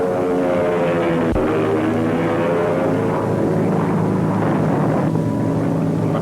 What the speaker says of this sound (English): These are the bombers' best friends, the fighters, the swift destroyers of the air who drive off enemy planes while bombers do their jobs.